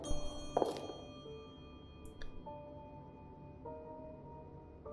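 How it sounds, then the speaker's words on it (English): A single dull thunk on a door in a video game, a short muffled knock standing out briefly, followed by quiet game ambience with faint tonal hums and a couple of small clicks. "There's a bit weird thud on the door."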